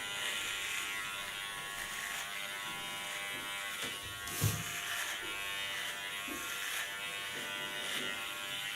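An electric hair clipper set to 1.8 millimetres buzzes steadily and close during an ultra short haircut, a constant high whine with a brief louder bump midway as the blade presses against skin.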